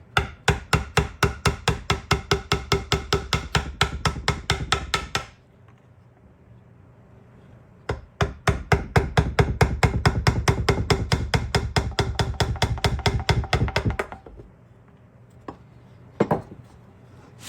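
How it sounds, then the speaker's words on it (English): Chisels cut a groove into the top of a cedar mast, with bursts of rapid, close, sharp wooden taps, a pause, then another long run of strikes and a few last knocks. "now I'm just putting a groove in with some of these really cool chisels to make a pathway for the halyard"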